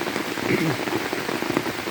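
Heavy rain pouring down on a flooded garden, a dense continuous hiss of drops hitting water and soaked ground, loud and steady throughout.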